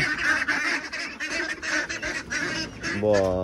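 Loud, busy honking and quacking from a flock of ducks and geese in rural Assam, overlapping calls filling the whole stretch close by.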